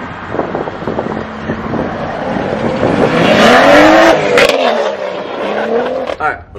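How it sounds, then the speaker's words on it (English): At an outdoor Cars and Coffee meet in Biloxi, a BMW M240 engine starts up and revs loudly, the pitch climbing and falling, under heavy wind buffeting on the microphone. "Dell's M240, about to hear that thing start up"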